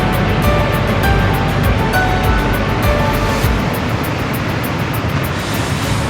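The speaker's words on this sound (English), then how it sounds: "A waterfall." A waterfall in Iceland roars loud and close, a dense unbroken wash of rushing water with no pauses.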